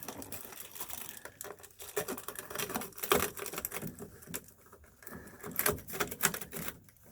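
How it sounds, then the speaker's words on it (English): A new razor blade slices through reflectix foil-bubble insulation near a duct boot, giving close, irregular crinkling, tearing and scraping rustles that rise and fall over several seconds, with no voices. "You're going to cut that with your brand new razor."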